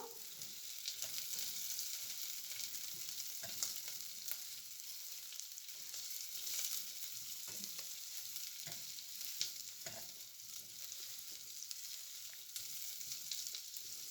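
Onion and cardamom sauté in a pan for a fish soup, giving a continuous soft, even sizzle with occasional faint stirring scrapes, fairly quiet and without talk.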